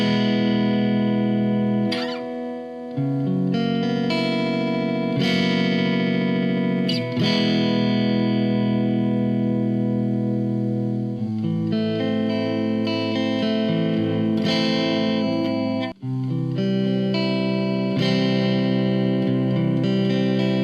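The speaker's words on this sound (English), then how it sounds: "this is the other clean tone, Clean Bright, but with the ISF set to 10 so you can hear the different tones" Electric guitar played through a Blackstar ID Core 40 amp on its Clean Bright channel with the ISF control turned fully up, sustained chords and ringing notes loud and continuous throughout.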